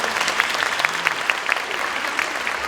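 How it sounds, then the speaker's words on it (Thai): Applause from an audience at the Nine Entertain Awards 2014 ceremony, a steady dense patter of many hands clapping with a few louder claps standing out, sustained throughout. "ขอเสียงปรบมือให้กับผู้เข้าชิง"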